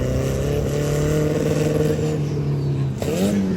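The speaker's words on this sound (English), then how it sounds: "You can hear that missing sound in the car." Drift race car engine at a drifting event, misfiring as it runs in a loud steady drone with an uneven stuttering pulse, then a brief dip and a rising rev near the end.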